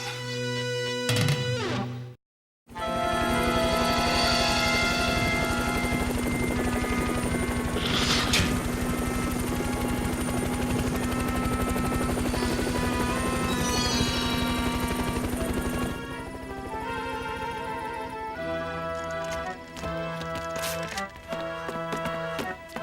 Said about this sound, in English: We've got a chopper waiting.